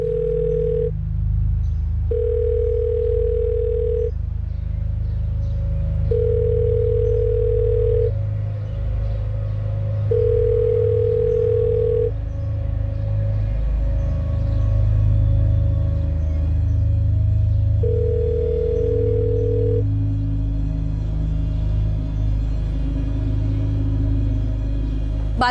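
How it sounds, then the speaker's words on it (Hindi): Mobile phone ringing somewhere in a house, a steady repeating electronic ring tone in regular bursts over a continuous low hum, no talking. "रिंग बज रही है पर पता नहीं कहाँ पे रख दिया फोन"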